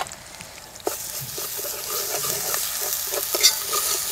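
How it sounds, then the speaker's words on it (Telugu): Ginger garlic paste with turmeric fries and is stirred in a pan while cooking a chicken fry: a steady bright sizzle runs throughout, with scraping stir strokes and a sharp clink near the start. "ఈ అల్లం పేస్ట్ కూడా పచ్చి లేకుండా ఇట్లా వేపుకుంటే ఇట్లా మంచిగా ఉంటుంది"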